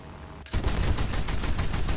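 AP rounds fired from an anti-aircraft gun in War Thunder: after a brief quiet, loud rapid automatic fire begins and keeps hammering in a dense, even rhythm to the end.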